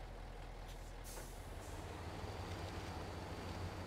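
Truck in Spintires: Mudrunner driving off-road through rough terrain, a steady low diesel engine drone with a hissing air-brake-like burst near the start, continuous and moderately faint.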